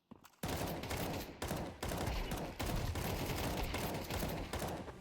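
Dense bursts of automatic gunfire from an AK rifle in a competitive shooter video game, loud and continuous, with brief breaks between volleys and no talk.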